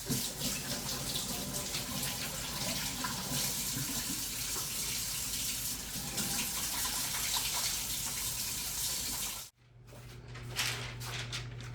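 Steady tap water runs loudly into a kitchen sink during handwashing for about nine and a half seconds, then cuts off abruptly, leaving a quieter low hum and faint clatter.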